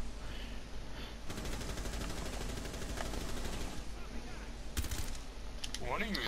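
Rapid automatic gunfire from the Rainbow Six Siege video game rattles on steadily for several seconds at close range, with a few sharper bursts later and a voice talking over it.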